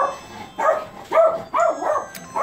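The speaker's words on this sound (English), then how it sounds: "you hear my dog barking because of the door" A pet dog indoors barks in several loud, close bursts set off by someone at the door, with a few yelps and whimpering tones between the barks.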